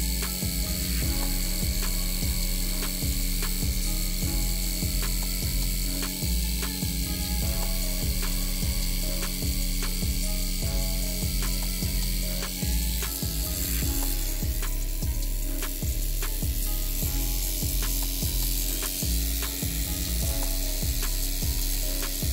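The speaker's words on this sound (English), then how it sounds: "this motor has the most torque of any pulse motor I've made to date" A large homemade Newman pulse motor runs steadily, giving off a continuous rapid mechanical ratcheting buzz with fast repetitive pulses. It is loud and close, with no voices.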